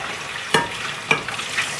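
A child washes dishes in a sink of soapy water, with a few distinct splashes and clinks over a soft continuous watery background.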